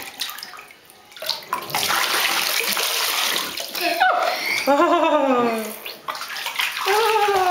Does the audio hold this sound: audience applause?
no